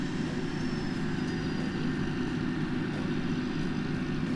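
A 1600mm Avios C-130 scale turboprop model airplane made of EPO foam flies slowly with its flaps out, giving off a steady, continuous propeller drone with a faint high whine and no voices.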